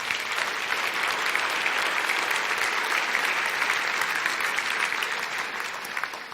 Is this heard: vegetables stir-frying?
no